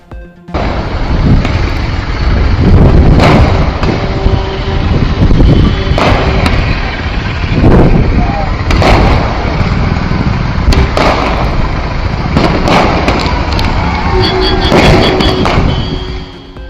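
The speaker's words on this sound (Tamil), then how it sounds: "பட்டாசு வெடித்து கொண்டாடி மகிழ்ந்த ஊழியர்கள்." Firecrackers bursting in celebration after a successful lift test of the vertical lift bridge at Pamban, with sharp loud cracks and thumps scattered irregularly over a constant rumbling din.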